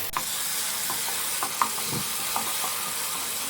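Tomato paste being stirred into a frying chicken curry masala for Hyderabadi chicken curry, a continuous close sizzle with occasional spoon scrapes and knocks against the pan.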